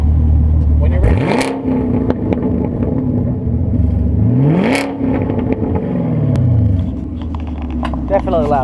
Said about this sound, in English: So here we go with the rev.